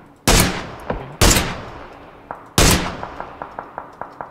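Loud video-game gunfire aimed at an apartment rooftop: three big booming shots with long decaying echoes, followed by a run of sharper, quicker reports spaced about a third of a second apart.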